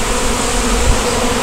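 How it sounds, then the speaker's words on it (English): Honey bee drones buzz loudly and steadily around a beehive while a brood frame is inspected, a close, continuous droning hum that never drops out. "They got more of that buzz sound to them."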